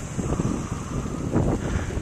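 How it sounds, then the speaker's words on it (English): Strong wind during a snowstorm in Kansas City buffets the microphone in loud, gusty roars, a continuous rushing blast with no voices. "It is still windy as anything."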